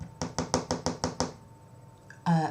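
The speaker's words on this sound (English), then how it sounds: "he heard a little tap on the door" Seven quick, light knocks on a door in an even rhythm, crisp and close, followed by a short pause and then the start of a voice.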